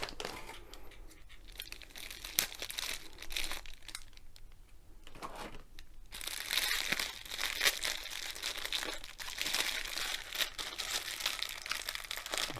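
A clear plastic packaging bag holding silicone release paper is worked open with blunt scissors, giving close, fairly quiet bursts of crinkling and tearing plastic with short pauses between them.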